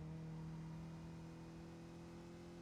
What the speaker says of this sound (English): Just listen to the pressure and the sliding of the tires as he goes through these corners.